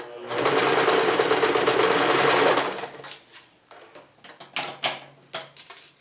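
A sewing machine runs a steady continuous burst while stitching and backstitching the end of a seam on a thermal therapy pillow, then stops, leaving a few quieter clicks and handling sounds.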